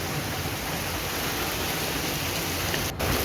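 Steady rain falls around a house on a rainy day, a continuous close hiss of water pattering on surfaces with no break, and no voices heard.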